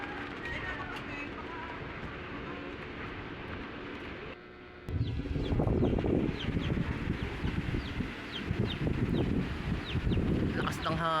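Strong wind and rain roar outdoors during a Laguna loop ride, a steady broadband rush that swells louder halfway through, with a voice speaking over it.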